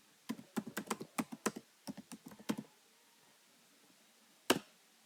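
A run of quick, crisp computer keyboard keystrokes as a web address is typed, close and clear, then a brief pause and one final louder keypress.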